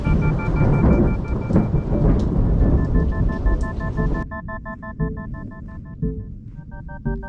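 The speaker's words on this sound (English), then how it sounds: "Here comes the rain." Thunder rumbles with steady rain during a storm outside a parked King Ranch truck with a 5.9 Cummins swap, the broad roar later thinning as a sustained tonal hum and a few sharp knocks take over.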